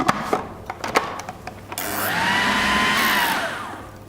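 A few soft clicks come first, then a blender whirs for about a second and a half as it blends ice cream mixture with vanilla bean paste. The pitch climbs and falls, close by and fairly loud.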